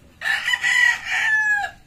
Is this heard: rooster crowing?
yes